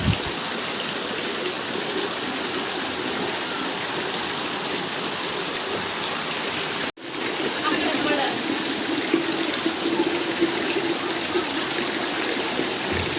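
Continuous rushing wash of rainwater running through a flooded street during monsoon rain, loud and unbroken apart from one sharp momentary dropout midway.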